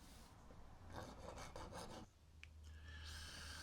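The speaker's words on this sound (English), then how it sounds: "I'll just get a file in there because I can't get anything in there." A hand file rasping against scrap pine wood in quick strokes, a burst of rough scraping followed by a short pause and a few more close, dry strokes, with no voices.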